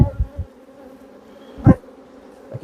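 Honey bees buzz close by at an apiary hive, a steady hum with sharp, loud thumps and knocks of hive handling breaking through.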